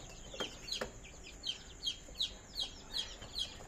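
Thirty-day-old Joper chickens on a farm cluck and chirp in a repeating rhythm, soft and somewhat distant, over a low background hum.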